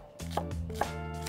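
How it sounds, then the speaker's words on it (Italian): Knife chopping an onion on a board for a baked pasta soffritto, with two sharp distinct chops standing out over a steady low kitchen hum, close and moderately loud, no talking. "Andiamo subito a tritare la cipolla"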